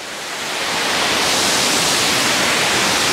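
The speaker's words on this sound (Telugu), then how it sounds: "ఇలా ఉందబ్బా వాటర్ ఫాల్స్" Yercaud waterfall at a Tamil Nadu hill station pours down in a steady, dense rush of water. The sound swells in over the first second, then holds loud and unbroken.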